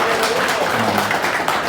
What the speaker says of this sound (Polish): myślę, że duże brawa dla kolegi Tomka.